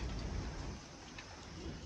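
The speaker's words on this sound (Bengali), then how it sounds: "কিন্তু বৃষ্টি আসতেছে এই দিক থেকে।" Steady broadband hiss of rain falling, continuous and fairly loud throughout, with a low rumbling undertone; no voices.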